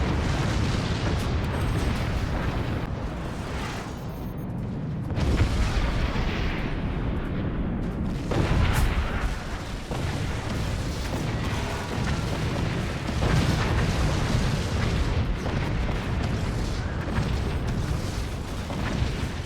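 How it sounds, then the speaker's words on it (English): In a first-person shooter match, a pair of howitzers fire point-blank into a structure's foundation and it collapses, heavy booms and rumbling blasts filling the mix continuously alongside crumbling debris noise. "a pair of howitzers that fired at maximum velocity at point-blank range, straight to the foundation, and it all comes crumbling down"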